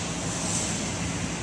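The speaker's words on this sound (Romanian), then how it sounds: "Iată, fântâna arteziană din Parcul Herăstrău." An artesian fountain in Herăstrău Park, Bucharest, on a hot day, gives a steady broadband rush of falling and splashing water, continuous and fairly close, with no talk.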